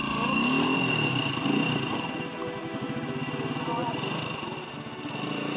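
Motorcycle engine labouring and revving as the bike struggles on slippery mud, steady loud drone with pulsing low rumble, people talking over it.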